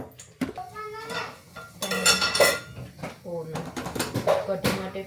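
Pots and metal utensils clank and scrape in a home kitchen as rice is put on to cook while kadhi and methi bhajiya are being prepared, with sharp, close clatters in irregular bursts and a voice talking intermittently.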